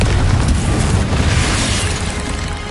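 A Confringo explosive spell blast in Hogwarts Legacy, a loud, dense roaring burst that fills the whole clip and slowly tails off without a break.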